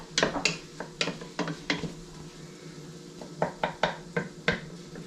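Food is stirred in a frying pan with a utensil, producing a series of sharp scraping clacks against the pan in irregular bursts over a soft sizzle.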